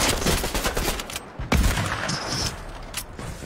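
Gunfire in the Apex Legends video game: dense rapid bursts of shots fill the stretch, with one heavier blast near the middle, loud and close throughout.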